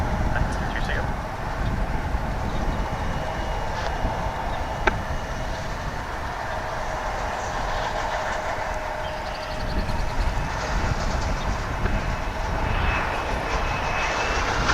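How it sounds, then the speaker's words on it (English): An American Airlines airliner in a special Medal of Honor livery taxis at DFW airport, giving a steady, broad jet-engine roar and whine that holds at an even level for the whole stretch, heard from a moderate distance. "We've got a special livery American Airlines taxiing here."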